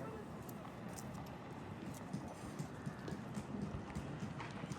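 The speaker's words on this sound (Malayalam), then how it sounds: "ഓ, കുതിര വന്നടാ" A horse walks along a path at Petra in Jordan, its hooves clip-clopping in a quiet irregular rhythm, faint and at some distance, under outdoor ambience and people talking.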